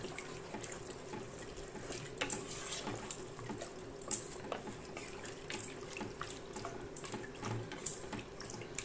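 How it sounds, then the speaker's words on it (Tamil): Water poured into a pan of mutton and butter beans curry, a soft steady splash and trickle running throughout at low volume with a few brief louder drips and clinks. "இப்போ தேவையான அளவு தண்ணி ஊற்றி இதை வேக விடலாம்."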